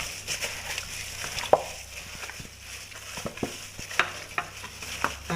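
Ground spice paste is stirred into catfish in a pan, giving a close, steady scraping and mixing sound with wet clicks and occasional sharper taps of the utensil against the pan over a soft sizzle.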